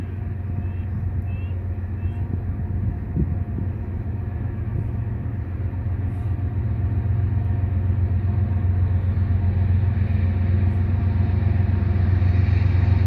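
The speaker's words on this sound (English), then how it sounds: "See, she hears the train now." A heavy, continuous low rumble of a train passing at some distance near a pasture, steady and growing slightly louder, with no talking.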